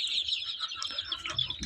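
A young hen that has just hatched chicks clucks in the coop, a rapid series of close, bright clucks and chirps with no other sound.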